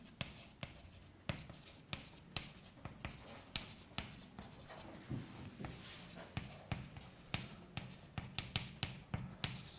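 Chalk or marker taps and strokes on a board during a relativity lecture, a steady run of sharp clicks and scratches at close range, moderately quiet with no talk over them.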